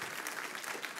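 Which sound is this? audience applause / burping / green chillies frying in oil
audience applause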